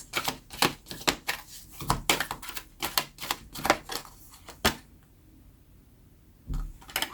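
Oracle cards are shuffled and drawn, giving a rapid series of crisp slaps and flicks close by, then a quiet pause and one last soft card snap.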